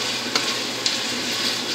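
Tomato paste fries with garlic in a pan, giving a steady, close hiss and crackle with a couple of faint clicks of stirring and no voices.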